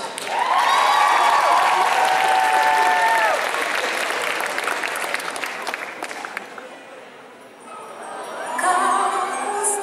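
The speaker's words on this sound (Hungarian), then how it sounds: "Taps!" Loud audience applause and cheering fill a hall at an anime Christmas cosplay gala, sustained for several seconds before thinning out, with a voice rising near the end.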